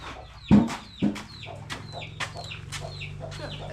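Chickens clucking and rooster-like calls, with a couple of louder close squawks near the start followed by steady softer clucking around a farmyard.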